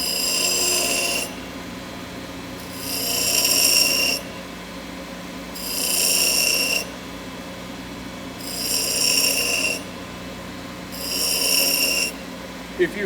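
A drill bit is sharpened by hand against a grinding wheel: five evenly spaced, hissing grinding passes of a second or so each, with a low steady hum between them.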